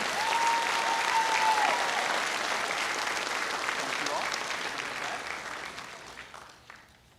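A crowd applauds loudly and steadily at a high school senior awards night, the clapping holding for several seconds before tapering off, with a brief whistle near the start.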